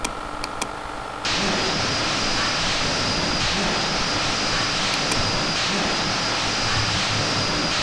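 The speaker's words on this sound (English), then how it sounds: "so let us now start the main engine." A ship's main engine starting up in a virtual engine room simulator: after a brief quieter moment, a loud, steady broadband roar rises abruptly and holds constant, with faint short clicks on top.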